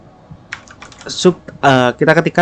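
Short bursts of clicking as a domain address is typed into Firefox on a computer keyboard, close to the microphone, with a voice talking over the second half.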